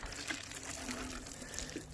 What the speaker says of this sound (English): all you do is give them a good water,